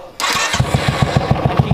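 A Royal Enfield Bullet motorcycle engine cranks and catches, then settles into a steady, even thumping idle, heard close and alone.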